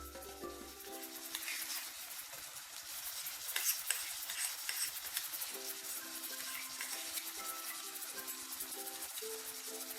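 Ginger garlic paste sautés with browned onions in a pan for potato rice, giving a faint, steady sizzle with soft stirring scrapes throughout.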